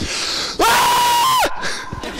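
A man yells loudly in a shouting contest during a nature walk, one sustained high-pitched shout of nearly a second that breaks off, followed by quieter voices.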